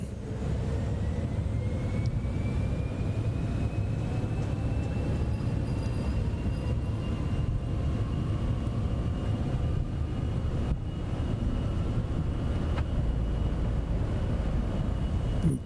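A Cessna Citation X business jet in Microsoft Flight Simulator 2024 spools up to takeoff power, giving a steady, loud turbine roar with rising whines that holds unbroken for the whole stretch, with no talk.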